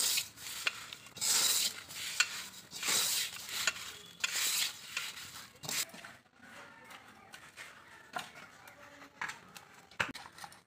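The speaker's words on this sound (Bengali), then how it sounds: "ভালো করে মিক্স করে নেব।" Semolina dough for fuchka being mixed and kneaded by hand in a bowl, giving rhythmic rubbing, squishing and scraping strokes, louder in the first half and then softer with occasional knocks.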